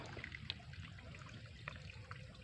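Spring water seeps from the ground where a family draws water for cooking rice and coffee, a faint, soft trickle with light drips and splashes against quiet outdoor background.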